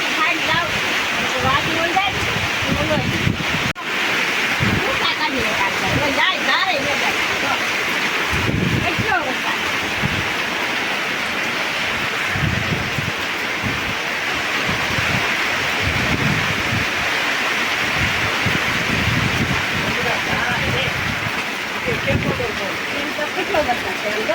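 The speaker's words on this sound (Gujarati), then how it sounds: "જુઓ કેટલો વરસાદ આવે" Heavy rain pours down steadily as a dense, continuous roar of broadband hiss that persists throughout, with people talking faintly underneath.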